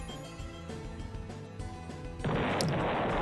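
Explosions in the Deltarune video game: a loud, dense burst of noisy blasts erupts partway through over a steady musical game soundtrack, continuing to the end.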